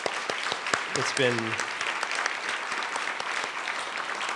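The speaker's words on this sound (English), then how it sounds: "let's just have a round of applause for all those incredible" Audience applause at a Pulitzer Center 10th anniversary event, a dense wash of clapping that carries steadily through the short stretch, with a brief spoken voice near the start.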